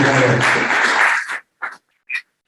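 Audience applause at a December holiday potluck general meeting, a dense burst of clapping that cuts off abruptly, followed by two brief isolated sounds.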